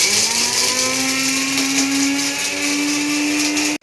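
A mixer grinder whirring at full speed as it powders whole spices and nutmeg, a loud, steady motor drone with a rising pitch that cuts off abruptly at the end.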